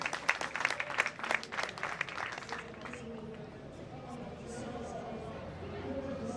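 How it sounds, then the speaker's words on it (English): A graduation convocation crowd on a Douala campus claps in a burst of applause that fades after about three seconds, then murmuring voices and ambient hall noise take over. "Let's clap for ourselves there."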